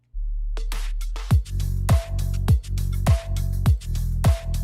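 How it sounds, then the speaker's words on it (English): A hip-hop style beat where a heavy sub bass drone starts alone, then punchy kicks and snappy drum hits join with a looped melodic layer, repeating steadily and loud with no voices. "So when you put it all together with the drums, the loops and stuff, it sounds like this."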